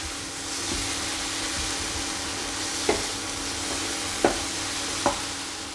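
Tomato and onion cook in a pan for a prawn ghee roast, a steady soft sizzle and hiss with a few sharp clicks of a spoon stirring against the pan.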